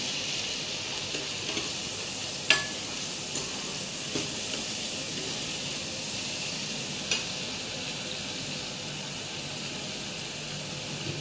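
Tomatoes, homegrown and very sour, sizzle and fry in a pan for a Punjabi vegetable dish, with a steady hiss throughout and occasional sharp scrapes of a stirring spoon against the pan.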